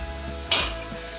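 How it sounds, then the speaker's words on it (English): Onions hit hot olive oil in a pan with a sudden bright sizzle that flares loudly, then settles into a steady frying hiss with light stirring. "just throw in the onions"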